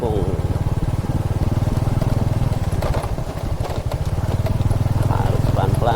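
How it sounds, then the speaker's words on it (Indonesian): An old motorcycle engine putters and rattles steadily at close range on a damaged village road in southern Brebes, with bumpy knocks and voices talking over the rough ride. "agak sedikit berisik karena motornya memang motor tua dan jalannya rusak pula"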